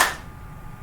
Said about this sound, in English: This one takes a clap.